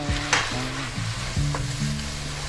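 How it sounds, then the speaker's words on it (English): Meat stirred in a frying pan with its juices, sizzling steadily up close while a utensil scrapes and clicks against the pan a few times. "I'm just going to stir it. Get all those juices in there nice."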